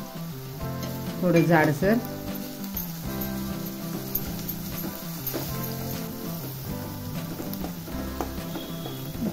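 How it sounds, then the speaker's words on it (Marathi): Ginger and garlic sautéing with onion in a pan for a mixed vegetable bhaji, a steady sizzle with stirring scrapes and a brief louder clatter near the start, while a voice speaks briefly. "त्यामध्ये मी आलं लसूण टाकणार आहे। ते पण चांगलं परतून घ्यायचं आहे"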